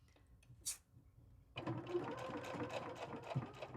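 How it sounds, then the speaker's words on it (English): A sewing machine starts after a short quiet pause and stitches quilt block pieces for a drawstring bag, its motor humming with a rapid, steady needle chatter close by. "So let's sew these down here."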